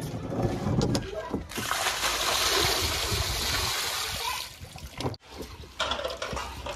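Running water splashes and gushes during washing, loud and close with uneven surges, briefly stopping before resuming, while people talk over it.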